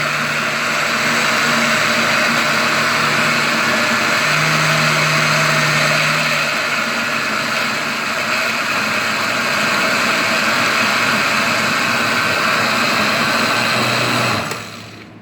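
A blender whirs steadily as it purées Puerto Rican sofrito vegetables with water, a loud continuous motor drone that runs unbroken for about fourteen seconds before cutting off near the end.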